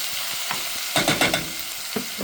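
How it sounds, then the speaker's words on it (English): Bell peppers sauté in a hot pan with a steady bright sizzle, broken by a few scraping stirs of a utensil partway through, close and moderately loud. "And I'll give that a little time to saute"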